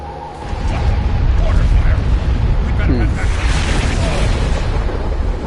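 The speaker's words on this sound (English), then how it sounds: "Mortar fire. The mortars have closed off the pass." Mortar fire in Star Trek Online booms and rumbles continuously, a dense, loud, rolling wash of explosions with no distinct gaps, and faint voices buried beneath it.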